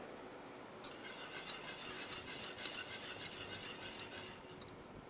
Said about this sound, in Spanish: Ahora seguimos removiendo.